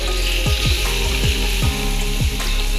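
Chicken pieces fry in a pan for home-style opor ayam, giving a loud, continuous close sizzle with repeated scraping or stirring strokes throughout.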